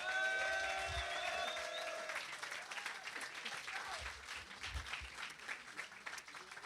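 An audience at the Kandidator 2024 semi-final applauds the eight competing artists, with brief tonal music at the start giving way to a steady wash of clapping from a large crowd.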